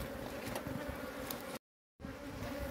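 Wild honeybees buzz at a nest in a rock crevice on a cliff while the opening is being closed, a steady humming drone from many bees close up, cut by a brief silent gap.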